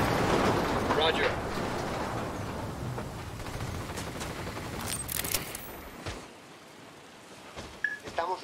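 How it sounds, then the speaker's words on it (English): Gunfire in Ghost Recon Wildlands, a dense rumbling barrage of shots that fades through the middle and drops away near the end, mixed with voices talking. "I'm opening fire. You guys ready? Fire."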